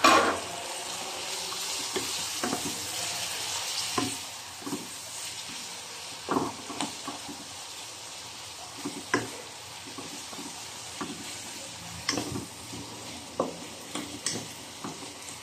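Tomatoes go into a pan of garlic and onion frying for pork binagoongan, with a steady sizzle running throughout and repeated sharp scraping stir strokes and clinks against the pan.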